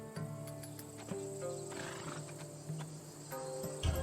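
A horse neighs in the video game Assassin's Creed Odyssey, a single whinny heard over a steady backdrop of game music and ambience, with a clip-clop of hooves near the end.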